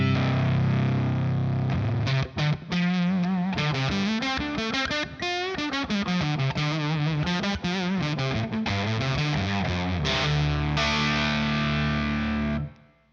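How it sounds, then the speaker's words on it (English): Electric guitar run through a fuzz pedal set at a low level into an amp, playing a loud, sustained, distorted riff with shifting notes that rings out steadily and then cuts off at the end. "Here's with the fuzz at low level."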